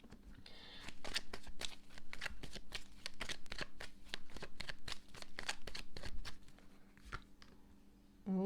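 Tarot cards are shuffled by hand in quick, papery riffles and slaps for several seconds, close and fairly loud over a faint steady hum, with no speech.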